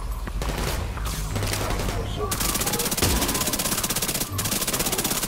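Rapid sustained gunfire and explosive bursts from the shooter game The Division 2, with a turret firing dense automatic volleys that continue almost without a break, loud and close, with brief talk underneath.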